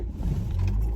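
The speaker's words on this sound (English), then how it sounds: "I need to put the car on" A car engine is started from inside the vehicle, a short, loud, close rumble lasting about a second, with no talking.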